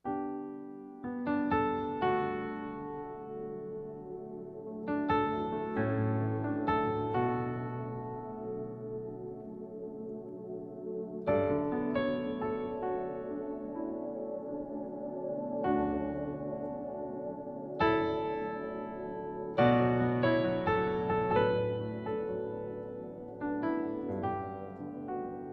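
Layered keyboard and piano sounds for worship music play a slow sequence of sustained chords, each struck and left ringing before the next, clear and alone with no talking.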